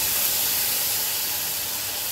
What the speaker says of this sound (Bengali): সামান্য পরিমাণে জল দিয়ে আর একটু কষিয়ে নেব।